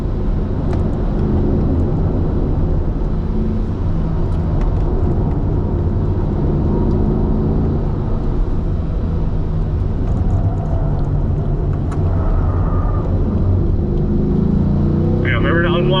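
A Corvette at full throttle on a race track at a driving school, its engine giving a loud, continuous, close-up roar that holds steady for the whole stretch.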